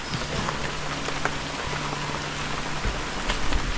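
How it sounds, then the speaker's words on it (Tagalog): Rain pattering steadily on surfaces outdoors, a soft continuous hiss with scattered distinct drops and a faint low hum underneath, no talking. "Ulan."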